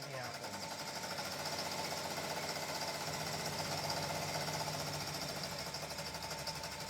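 An embroidery machine stitches a bath towel with a fast, continuous mechanical chatter and rhythmic needle knocking, steady and close throughout.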